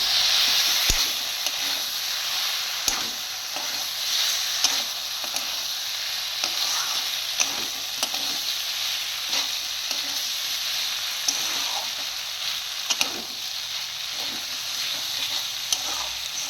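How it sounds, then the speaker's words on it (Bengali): Spice paste with a little turmeric sizzles and fries steadily in a pan, with frequent scraping stirs cutting through a constant bright hiss, close and alone with no talk. "মশলাটা আমি দু তিন মিনিটের মতন একটু ভালোভাবে কষিয়ে নেব"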